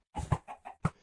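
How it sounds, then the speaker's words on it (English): A chicken in the video game Minecraft Bedwars clucks in a quick run of five short, fairly loud calls, close and alone with no talk over it. "Yes, chicken!"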